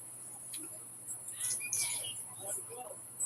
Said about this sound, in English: The birds are chirping over here.